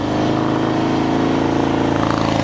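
A Harley-Davidson FXDR 114 motorcycle rides at slow speed, its engine a steady, loud, close low rumble with regular firing pulses and no let-up from start to finish.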